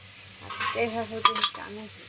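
Soya chunks stirred in a frying pan of hot oil for a pulao, a spatula scraping and clinking against the pan in a few close strokes over a soft sizzle.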